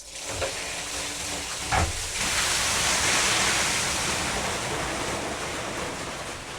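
Water pours steadily into a farm holding tank, a dense broadband rushing hiss that swells slightly and holds for several seconds, with a few faint knocks near the start.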